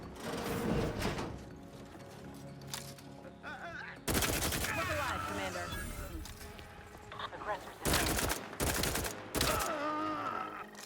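Gunfire in The Outer Worlds 2 video game, several loud sharp bursts of shots breaking through a busy background of mechanical noise, with a person talking in between.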